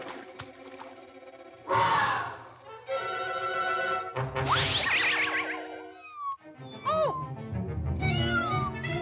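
Cartoon cat meowing in a Donald Duck short, a series of loud, close, wavering yowls and mews, some drawn out and bending in pitch, with brief gaps between cries and no talk over them.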